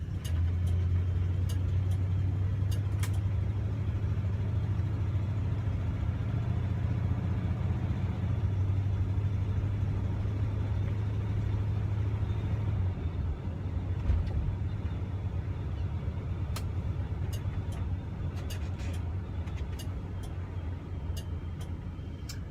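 A 1971 Oldsmobile Cutlass S cruising on the road, its engine a steady low rumble from inside the cabin with faint ticks and road noise, the drone easing slightly partway through.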